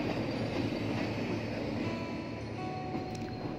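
The Ooty to Coonoor toy train runs with a dense, steady rumble and rattle of carriages, close and continuous and without talking.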